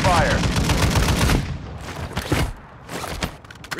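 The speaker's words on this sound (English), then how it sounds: "You are taking effective fire." Heavy gunfire in Call of Duty DMZ, dense automatic bursts filling the first seconds then sporadic shots, loud and close, with radio-style voice chatter mixed in.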